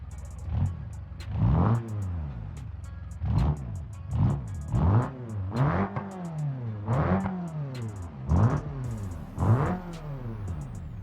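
An accident-damaged Togue BX with a 4-cylinder engine is revved again and again, each rev a rising, falling whine in a steady rhythm of roughly ten pulls, loud and close, with no talk.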